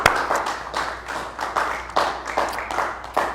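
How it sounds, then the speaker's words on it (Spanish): A church congregation gathered for an evening seminary class claps in praise, with fairly rhythmic, unison clapping in regular pulses at moderate volume in a reverberant room. "Démosle un aplauso"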